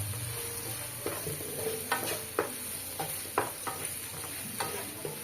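Ingredients sautéing in a pan with salt, a steady sizzle with a run of sharp scraping spoon strokes against the pan at irregular intervals, close up and with no voices.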